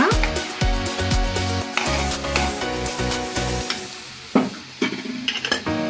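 Crabs frying in hot oil, stirred with a metal spoon, brisk rhythmic scraping and clanks against the pan over a steady sizzle, close and fairly loud.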